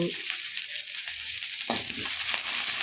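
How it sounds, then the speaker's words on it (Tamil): Onion, tomato and garlic sauté in hot oil in a kadai, a continuous close sizzle and frying crackle broken by a few stirring scrapes of a spoon against the pan. "மற்ற பொருளெல்லாம் இதில் சேர்த்துட்டு வதக்கிடணும் பச்சை வாசம் போக நல்லா வதக்கணும்"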